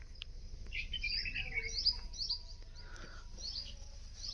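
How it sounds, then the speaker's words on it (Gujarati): Morning birds chirp and twitter in quick, bright bursts, several calls overlapping fairly close by over a soft low background hum, with no talking. "પક્ષીઓનો કલબલાટ તમને સંભળાતો જશે."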